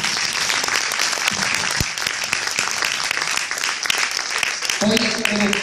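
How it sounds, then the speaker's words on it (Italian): Audience applause rises in a steady, dense wash of clapping at a live singing performance, with a voice speaking over it toward the end. "Un altro applauso per te."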